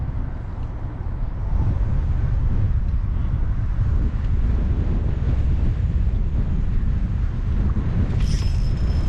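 Strong twenty-mile-an-hour wind buffets the microphone out on the water during perch fishing, a loud continuous low roar with a brief higher-pitched whistle near the end and no speech.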